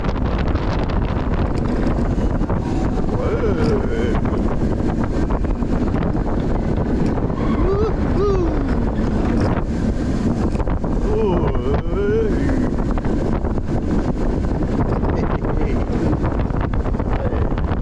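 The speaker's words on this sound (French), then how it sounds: "je sors de RMF Dragon, vous connaissez, un petit suspended family coaster Vekoma" Riding RMF Dragon, a Vekoma suspended family roller coaster, with loud steady wind rush and rumble throughout and faint voices calling out on the ride.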